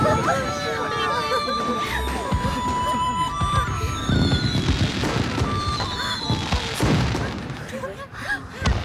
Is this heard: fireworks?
yes